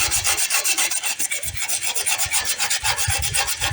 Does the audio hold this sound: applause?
no